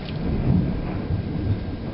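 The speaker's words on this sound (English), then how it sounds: "And thunder too." Thunder rolls during a hail storm, a deep rumble lasting the whole two seconds with a couple of swells, under a steady hiss of falling rain and hail and with no talking.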